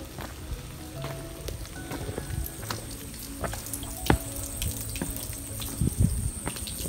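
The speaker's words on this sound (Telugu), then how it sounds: "దారి మొత్తం కూడా ఒక వాటర్ స్ట్రీమ్ వస్తూ ఉంది." A small water stream runs beside a stone-lined trekking path on Tavalagiri hills, a steady trickling and splashing heard close up, with brief clicks and knocks scattered throughout.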